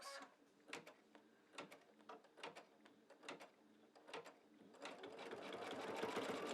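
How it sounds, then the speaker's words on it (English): An embroidery machine stitches an in-the-hoop mug rug, first as a series of distinct rhythmic mechanical thumps, then building into a continuous whirring run that grows louder toward the end. "Okay, I'm going to start to stitch and I'm going to stay really close."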